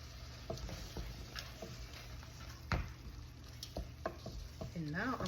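Green peppers go into curried onions and tomatoes sizzling on high heat in a cabbage dish, with a steady frying hiss, scattered stirring clatters and a sharp scrape near the middle, close and continuous.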